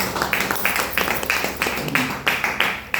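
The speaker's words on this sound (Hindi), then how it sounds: "जोरदार ताली लगाइए एक बार डिएक्शन के लिए" A crowd claps steadily for DXN during a health product presentation, a dense, continuous patter of many hands that holds at an even level throughout.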